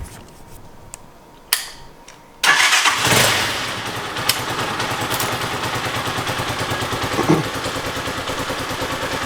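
A Brozz 250 dirt bike engine starts after a few clicks and knocks, then settles into a steady, close, loud idle with a rapid even putter that briefly revs up near the end.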